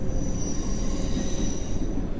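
A subway train in the World Of Subways 3 game rumbles along the track at a steady roar, with a thin high metallic whine held above the low running noise, no voices.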